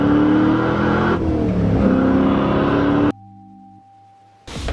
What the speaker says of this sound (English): We are taking the E30 out for a ride along with you guys to show you guys how it sounds, how it feels, and how it drives.